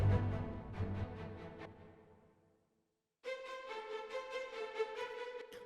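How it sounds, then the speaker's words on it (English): Short, bouncy detached string notes from a violin section play a quick figure that fades into silence, then a brighter sustained string passage enters. "So this is the violin 1 spiccato"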